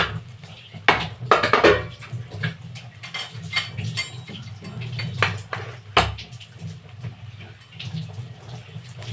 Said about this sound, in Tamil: சாதத்தை போட்டு கிளறிக்குவோம்.